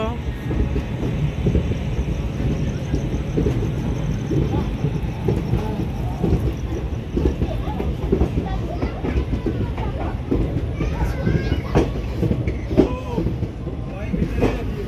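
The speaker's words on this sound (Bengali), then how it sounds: "ট্রেন ছেড়ে দিয়েছে হাওড়া, দেখতে পাচ্ছ।" A train leaving Howrah station rumbles and clatters steadily on the rails from inside the carriage while people talk nearby throughout.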